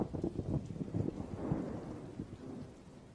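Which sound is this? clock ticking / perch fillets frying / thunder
thunder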